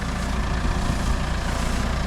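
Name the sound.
tractor with front end loader engine running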